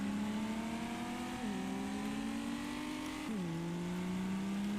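A synthetic car engine from the racing game NFS: San Andreas drones steadily at high revs, dropping in pitch twice as if shifting gears, continuous and loud with no pauses.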